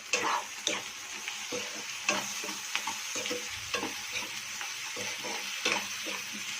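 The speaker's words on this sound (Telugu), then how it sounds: "మనం నూరుకుని పెట్టుకున్న మసాలా ముద్దని వేసి బాగా వేయించాలండి. పచ్చివాసన పోయే వరకు వేయించుకోవాలి." Ground masala paste fries in a pan for a goat head meat curry, a soft sizzle broken by repeated scraping knocks of a spoon stirring it, close and fairly quiet.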